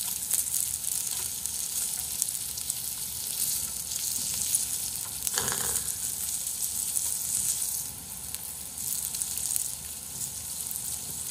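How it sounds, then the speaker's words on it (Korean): Pork belly slices sizzling on a pan at home, a dense, steady crackle and hiss running throughout, close and loud, with a brief stir or shuffle midway and no talking. "얘네들 익으니까 지글지글하다"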